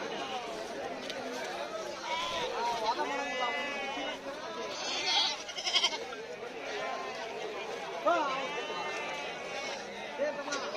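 Sheep and goats of mixed sexes at a busy Wednesday morning livestock market in Honnalli, Karnataka, bleating here and there amid a steady crowd chatter and nearby talk.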